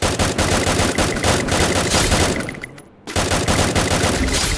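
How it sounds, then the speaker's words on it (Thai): Rapid automatic gunfire in a shooting video game, dense loud bursts of shots that thin out briefly near the three-second mark and then resume at full intensity. "ยิงเลยนะครับ"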